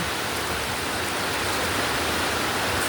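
Roaring rush of a waterfall on a mountain trail, a steady loud broadband wash of falling water filling the whole clip with no voices.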